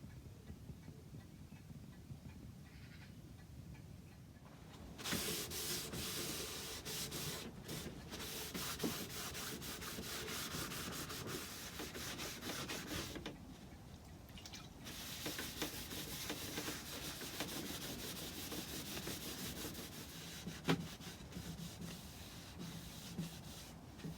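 A wooden grandfather clock case is rubbed down with a cloth and methylated spirits, heard as soft scratchy rubbing strokes in two long bursts separated by a quieter pause, close and fairly faint.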